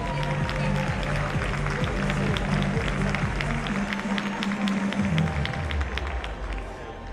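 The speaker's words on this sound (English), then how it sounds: "a great round of applause once again for all of our scholarship winners" An audience at a ballroom dance competition in Battelle Hall applauds scholarship winners with sustained, even clapping and some crowd noise, while music plays underneath.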